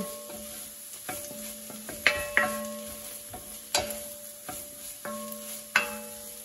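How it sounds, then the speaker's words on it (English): Chopped garlic sizzles in a pan under a soft frying hiss, broken by clear clinks and scrapes of a utensil against the pan at irregular intervals, with no voices. "I'm going to go ahead and just put in these chopped garlic in my pan over here."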